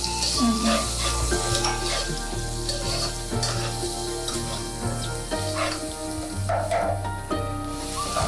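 Onions, ginger-garlic paste, cumin and mustard seeds fry in hot oil for a pulusu, a loud steady sizzle with stirring and occasional clinks of a spoon against the pan under a constant hiss.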